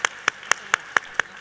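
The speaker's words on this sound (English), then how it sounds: "Can you give a big round of applause?" Crisp, evenly spaced hand claps, about seven sharp beats in steady rhythm, close and clear with no talking, from a philanthropy forum audience.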